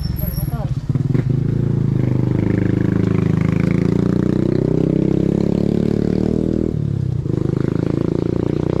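Motorcycle engine revving and running close by on a muddy trail near Miranda Wall in Talisay, Batangas, a steady loud drone with rising and falling revs that dips briefly near the end, with voices talking over it.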